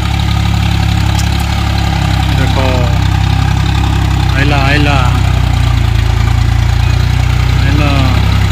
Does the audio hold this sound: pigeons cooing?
no